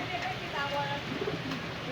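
Soft coos of high-flying tournament pigeons sound faintly over a constant background hum, with a few low, murmuring calls.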